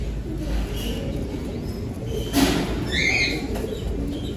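Pigeons in a loft aviary make soft low coos with a rustle of flapping wings, steady and close, over a constant background hum.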